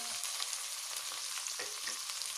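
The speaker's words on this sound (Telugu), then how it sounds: "సో టమాటో వేసేసి ఈ టమాటో కొంచెం సాఫ్ట్గా అయ్యే వరకు కుక్ చేయాలి" Tomatoes fry in a pan for egg fried rice, giving a soft, continuous sizzle with light crackles, quiet and even throughout.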